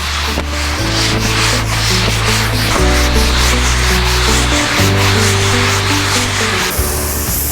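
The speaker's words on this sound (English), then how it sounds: "we're just gonna sand it just so we can show you what it's gonna look like once you get past that" A power sander working across the surface of a white maple burl, a loud continuous rubbing drone close to the listener with shifts in pitch as pressure changes, no speech.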